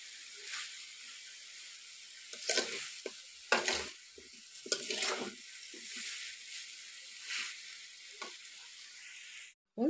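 Elephant apple (chalta) pieces frying with sugar in a pan give off a steady close sizzle, with bursts of stirring and scraping against the pan layered over it, and no talking.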